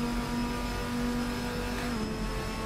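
A GT race car engine from the RSS GT mod pack in Assetto Corsa, a loud steady high-revving drone held close throughout, with a slight pitch drop near the end.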